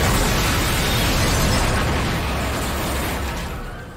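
A bomb goes off behind a railway station in a crime film, a dense roaring blast that fills the whole clip and slowly fades toward the end.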